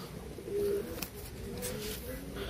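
Madrasi pigeons, a long-distance breed, coo in soft low repeated calls over a steady background hum, fairly faint and without speech.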